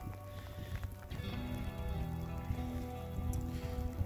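Rain falling on wet rocks at Crescent Beach in Ontario, a steady dense patter spread evenly across the clip, with soft surf-like wash underneath and no talk.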